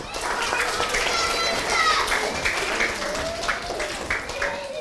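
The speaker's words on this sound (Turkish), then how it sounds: "Hadi bakalım alkışlıyoruz." A group of primary school children clapping and cheering together in a lively room, their high voices mixed into the steady applause.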